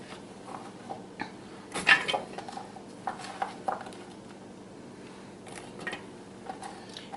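Celery, onion, red onion and carrots tipped into a stock pot for chicken broth, scattered soft thuds and clatters of chopped pieces and utensil knocks in a quiet kitchen, with no voices.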